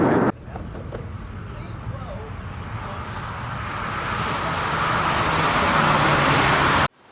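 A Triumph 2500 Mark 1 saloon being driven through gear changes, heard from inside the cabin as a broad engine and road roar that swells steadily before cutting off abruptly near the end.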